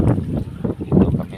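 Strong wind buffets a fishing boat on a rough sea, gusting in loud, uneven bursts of low rumble against the microphone.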